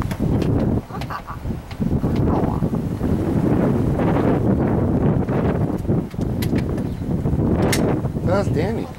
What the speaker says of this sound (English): That's a cold wind.